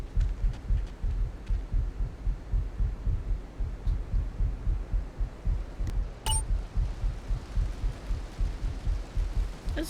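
A steady, rhythmic heartbeat from the video game Grand Theft Auto III thumps low and regular, a constant throbbing pulse over a quiet hum with a couple of faint clicks.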